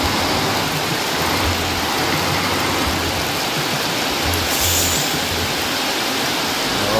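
Heavy rain pours outdoors around a parked bus, a dense, steady hiss of falling water that holds at a constant loud level throughout, with no voices.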